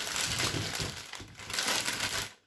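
Paper crinkles and rustles close by in a few bursts of crumpling, then goes quiet at the end.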